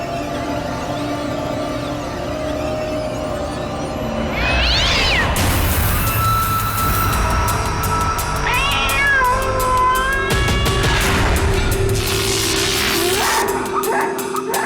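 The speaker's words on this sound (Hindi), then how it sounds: "बिल्ली का रोना" A cat cries with several drawn-out, wailing meows that rise and fall against a dense background of music and ambient noise, the calls loud and close in the middle and later part.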